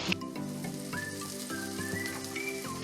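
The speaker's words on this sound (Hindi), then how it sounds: "अब फिर हम इसमें डालेंगे 2 से 3 टेबलस्पून ऑयल और डालेंगे स्प्रिंग अनियन।" Oil and spring onions sizzling steadily in a pan for vegetable egg fried rice, with a close frying hiss and light stirring clinks.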